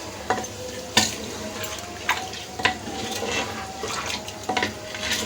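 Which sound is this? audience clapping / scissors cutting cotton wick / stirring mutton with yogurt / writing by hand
stirring mutton with yogurt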